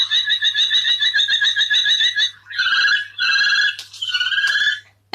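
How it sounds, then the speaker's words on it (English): A common kestrel call played through a phone app, loud repeated shrill, harmonic whistling notes in a rapid run followed by several longer keening cries, over a low steady electrical hum. "And that is a common kestrel."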